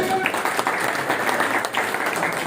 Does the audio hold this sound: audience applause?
yes